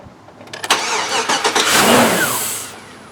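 A 2004 Cadillac Escalade with a swapped engine and no exhaust system cranks with a few quick starter chugs, then catches and roars up briefly before settling, close and loud.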